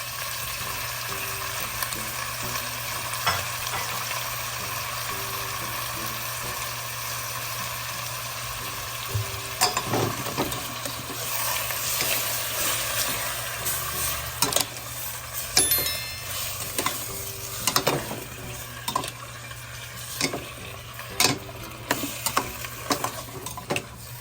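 Pork frying in a pan for sinigang na baboy, a long steady sizzle with scattered clicks and scraping stir sounds that grow busier toward the end, without talk.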